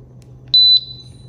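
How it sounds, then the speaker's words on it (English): A Senko SGT portable gas detector powering on, giving a single short, loud, high electronic beep over a faint low hum. "Let's turn on the detector and go through the"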